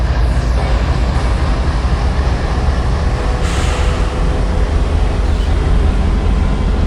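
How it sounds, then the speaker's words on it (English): A train running in the simulation game Trainz Railroad Sim 2019, a steady loud low rumble and rolling drone that holds without pause throughout. "Train shouldn't be too much to pull."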